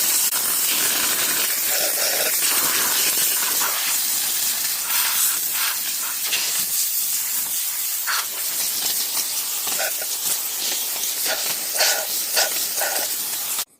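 A SilverCrest hand-held steam cleaner, used on a sink, hisses continuously with bright, spraying steam, loud and close, with slight pulses in intensity, before cutting off abruptly at the end.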